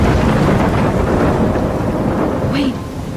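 Loud thunderstorm in the Life is Strange game: heavy rain and a deep continuous thunder rumble fill the scene close and dense, while a brief voice-like sound rises near the end.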